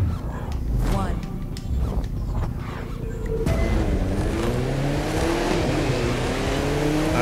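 An Audi race car in The Crew 2 drives with a loud, continuous engine roar that rises in pitch as it revs and accelerates, while a voice speaks over the opening seconds.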